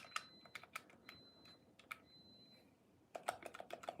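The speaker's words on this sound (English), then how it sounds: "Face buttons are all real nice and responsive, easy to hit, clicky." Crisp, clicky presses on a game controller's face buttons, tapped in quick irregular bursts with short pauses, close and fairly quiet with no talking.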